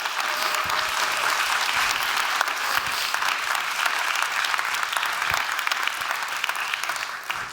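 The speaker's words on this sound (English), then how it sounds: "Let's give them all a big round of applause." A summit audience at an awards ceremony claps steadily, a dense, even wash of applause from a large crowd sustained throughout.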